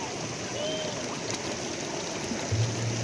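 Stream water at Shivkhola flows in a steady broadband rush, with a constant hiss and gurgle close by. A brief low bump comes near the end, and no voices are present.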